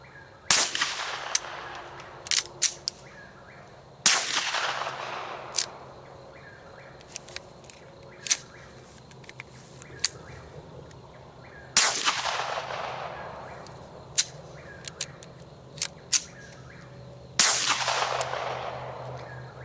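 Four sharp suppressed pistol shots from a handgun fitted with a wet Gemtech GM-45 suppressor, each a loud crack with a trailing hiss, widely spaced, with light clicks and handling noises between them and no talk.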